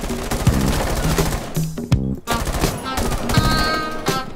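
Rapid automatic gunfire in Rainbow Six Siege, with dense bursts of loud shots running almost nonstop with only brief gaps, plus faint game effects under it.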